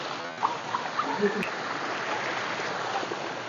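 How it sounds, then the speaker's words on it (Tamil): Water streaming across a rocky path near a sea cave at a beach, heard as a steady rushing wash with a few brief splashes and clicks early on, no clear talking. "வர வழியிலே ஒரு தண்ணி எல்லாம் அப்படி கிராஸ் ஆயிட்டு இருக்கு"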